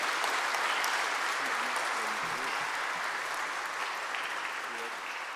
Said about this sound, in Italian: Grazie anche a voi, un applauso, penso che è meritato.